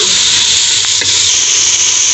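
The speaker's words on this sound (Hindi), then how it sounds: "अब हम थोड़ा सा ये लहसुन अदरक के साथ इसको हल्का सा फ्राई करेंगे" Meat fries loudly with garlic and ginger paste in a hot pan, giving an intense, steady, close sizzle and hiss with a few faint scraping touches, and nobody talking.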